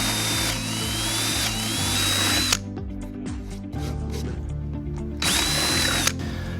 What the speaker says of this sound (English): We're gonna drill with the 5/16 drill bit right through there.